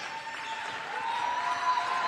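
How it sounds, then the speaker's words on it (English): An ONU crowd at a college women's basketball game gives a standing ovation, a steady wash of applause that holds and slightly swells over about two seconds, with faint crowd noise beneath. "A standing ovation from this ONU crowd"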